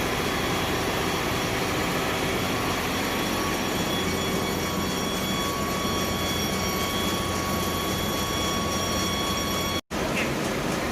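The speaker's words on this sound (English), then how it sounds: "Turn on lubricating oil priming pump main engine. Make sure the pump is functioning properly." A ship's main engine lubricating oil priming pump runs in an engine room, a loud, steady mechanical drone with constant tonal whine that continues unbroken until a brief dropout near the end.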